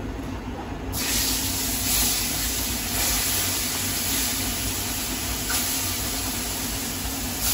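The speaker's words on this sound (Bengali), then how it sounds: "মাছগুলো বেজে নিই।" Fish fry in hot oil in a pan, a loud, steady broadband sizzle that starts abruptly after a moment and hisses on without a break.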